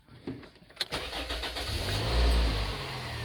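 A Toyota Succeed's engine is started: a few clicks and a short cranking whirr, then the engine catches and settles into a steady close idle with a low rumble.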